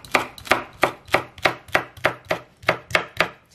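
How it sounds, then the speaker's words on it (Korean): A knife chops chive leaves finely on a cutting board in a steady rhythm, about eleven crisp, evenly spaced strokes heard up close with no talking. "잎도 이렇게 좀 작게 쫑쫑 썰어주고요"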